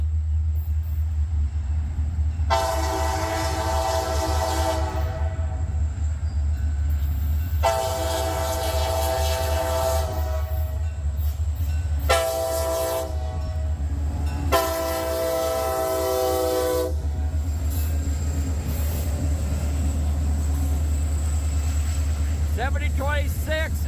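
A freight train with grain cars rolls past under a constant low rumble, its horn sounding in four long blasts, loud and close, with a voice speaking briefly near the end.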